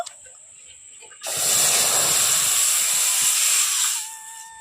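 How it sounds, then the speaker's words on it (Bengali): Coconut milk poured into a hot wok for homemade coconut milk, powder and oil, giving a sudden loud, steady hiss and sizzle that runs for about three seconds before easing off. "এখন আমি যে নারকেলের দুধটা রেডি করে রেখেছি সেটা এখন আমি কড়াইতে দিয়ে দেব"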